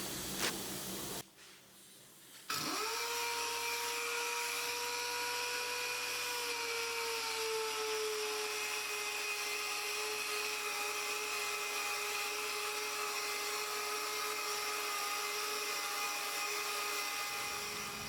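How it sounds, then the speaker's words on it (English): A steady whirring sander with 240-grit paper runs at low speed on an aluminum Mercedes SLK230 wheel, grinding continuously at an even pitch after a brief pause, with a constant hiss of abrasion running close and loud throughout. "240 grit at a low speed, and I'm going to try and remove all of the sand casting marks"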